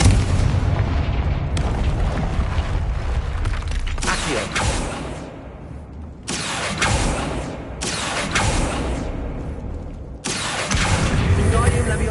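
Booming blasts from the Confringo blasting spell in Hogwarts Legacy, several loud explosive bursts with creaking, mechanical rumbling between them, sustained and close across the stretch.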